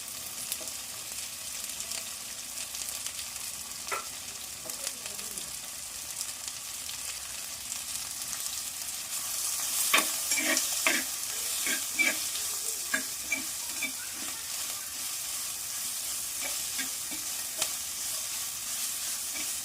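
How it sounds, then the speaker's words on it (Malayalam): Chopped ginger and green chillies frying in oil for a fish curry, a steady soft sizzle with louder crackling bursts and stirring scrapes in the middle stretch, close and without talk. "ഇനി ഇഞ്ചി അരിഞ്ഞതും പച്ചമുളകും ഇട്ട് കൊടുക്കും."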